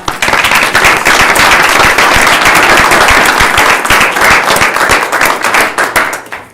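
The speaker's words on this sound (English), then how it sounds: "I think they deserve a round of applause." Loud, sustained applause at a county board of commissioners meeting, many hands clapping densely and steadily throughout before fading slightly at the end.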